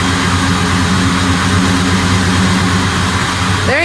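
A car engine idles steadily after repair, a loud continuous low rumble with harmonic drone throughout, no voices over it.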